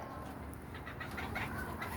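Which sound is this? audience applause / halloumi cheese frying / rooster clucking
rooster clucking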